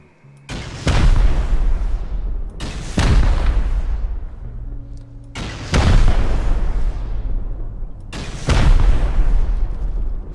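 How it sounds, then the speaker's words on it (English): Four rocket blasts striking a bunker base in the survival game Rust, each a loud booming explosion with a long rumbling decay, spaced a couple of seconds apart. "Four rockets fired,"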